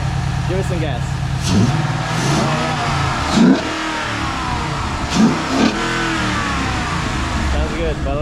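A Ford Mustang GT V8 with a K&N filter and stock exhaust idles and then revs several times in short bursts, each rev swelling and falling back, with voices talking over it.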